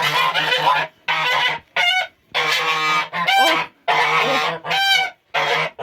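A goose honks loudly and repeatedly at close range, in a series of harsh, brassy calls separated by brief pauses.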